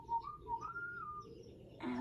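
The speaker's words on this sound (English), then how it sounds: "BJ whistled a little tune." A person whistles a short, soft little tune of a few wavering notes that rise and fall, heard faintly and alone.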